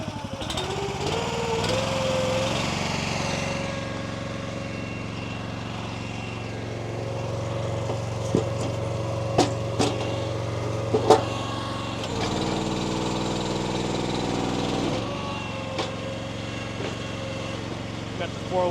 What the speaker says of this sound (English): Got the 4-way splitter on today.